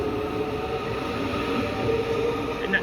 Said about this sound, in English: And that train just left.